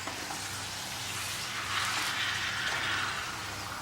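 Mutton is stirred into hot ghee and onions in a pan, giving a steady broadband sizzle with soft scraping that swells slightly midway, close and continuous, with no talking.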